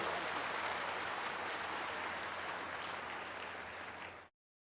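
A church congregation claps loudly and continuously in praise during a Hindi worship service, a dense steady wash of applause that fills the room before cutting off abruptly.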